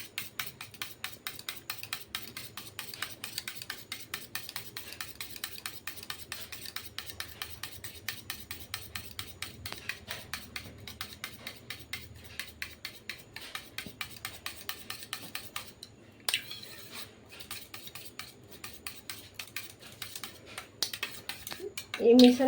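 Egg is beaten with pepper powder and chopped green chilli in a bowl, giving a fast, regular run of soft clicking strokes that stays quiet and steady, then briefly falters before picking up again.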